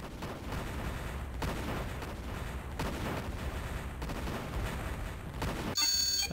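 Tank battle gunfire in the Imperium Galactica strategy game, steady rattling volleys of shots with dull booms, continuous and moderately loud, with the bursts rising and falling in waves.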